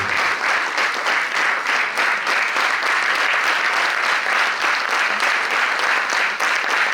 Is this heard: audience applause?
yes